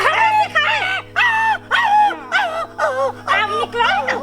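A person imitates a dog with a series of about eight short, loud, whining barks in a steady rhythm over a low background hum.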